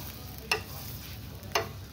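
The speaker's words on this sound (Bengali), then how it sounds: "চারিদিকে আমি বাটারটা দিয়ে দিলাম।" Roti frying in butter on a pan for an egg roll, a soft steady sizzle close by, broken by two brief scraping stirs or spatula touches, with no voices.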